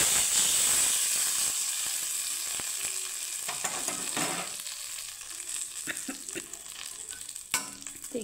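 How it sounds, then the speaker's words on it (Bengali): Whole cumin seeds, curry leaves and a pinch of asafoetida hit hot oil in a tempering for mung dal, loud sizzling and hissing at first that gradually settles, with scattered stirring clinks and no speech. "এখন দিয়ে দিব গোটা জিরে, কারি পাতা আর এখানে সামান্য হিং।"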